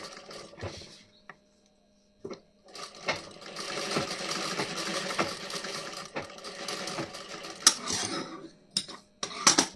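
A sewing machine stitches a blouse in close, fast rattling runs, starting and stopping several times with short pauses and the occasional click between bursts.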